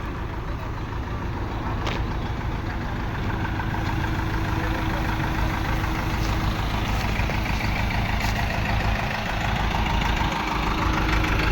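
A 400-litre Turkish Taral crop sprayer runs behind a YTO-454 tractor, a loud, steady engine drone with a constant hissing spray layered over it, continuous and close throughout.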